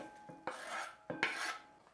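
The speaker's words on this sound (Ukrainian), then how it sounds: "а саме зелене пір'я я нарізаю таким ромбиком" A knife slices through green onion on a cutting board in two quick rasping cuts, each a short crisp scrape close to the listener.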